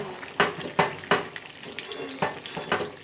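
Chicken with chilli, capsicum and garam masala frying in a pan, a steady sizzle broken by several sharp scrapes and knocks of a spoon stirring, close and moderately loud.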